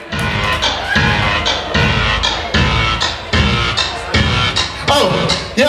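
At a live hip-hop show in a small gallery venue, a crowd cheers and shouts in loud, continuous bursts close around, with a few brief voices rising out of the noise.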